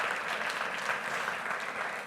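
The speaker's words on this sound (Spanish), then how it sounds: "¿Qué le parece si le aplaude al Señor?" A church congregation applauds during a sermon, a continuous, moderately distant patter of many hands clapping together, even in level and unbroken.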